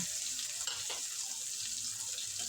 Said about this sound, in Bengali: এবারে কড়াই তেল ভালোভাবে গরম করে তাতে দিয়ে দেব টুকরো টুকরো করে কেটে রাখা পেঁয়াজ আর কাঁচা লঙ্কা